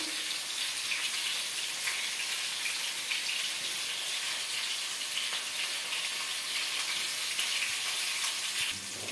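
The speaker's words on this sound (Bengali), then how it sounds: "একটু ফ্রাই করে নেব ভালো করে।" Vegetables for veg chowmein frying in a pan make a constant, fairly loud crackling sizzle that holds evenly for several seconds, with no talking over it.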